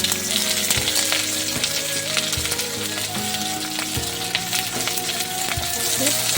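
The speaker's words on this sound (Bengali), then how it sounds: "এবার এই তেলের মধ্যে আমরা পেঁয়াজগুলোকে ভেজে নেব।" Onions fry in hot oil for a chicken biryani, a steady dense sizzle running throughout with occasional soft stirring clinks and scrapes, close and fairly loud.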